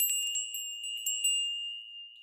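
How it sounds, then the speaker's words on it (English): A small turtle-shaped chime rings once during a sunrise sound bath, with several quick bright strikes that fade into a clear, sustained ringing tone heard alone. "my little turtle chime"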